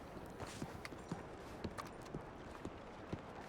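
Horse hooves clip-clopping in the Red Dead Redemption video game, a quiet, irregular walking rhythm of soft knocks over faint ambient background.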